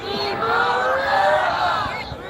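A crowd at a curfew protest in Tucson, Arizona, cheering and shouting together in a sustained, loud roar of many voices with some whoops rising above it.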